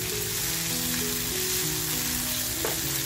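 Ginger, garlic, coriander and green chili paste sizzling steadily in hot oil for a stuffed squid dish, with a continuous, close, even crackle and no talking.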